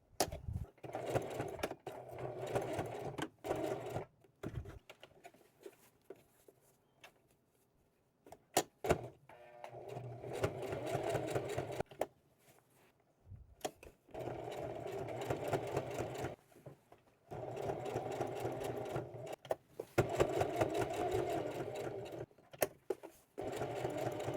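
A sewing machine stitches a tote bag strap in repeated runs of rapid mechanical whirring, broken by short pauses and brief stops for backstitching and pivoting.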